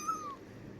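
A voice imitates a cat, giving a single short rising-then-falling meow, quiet and alone against low background noise.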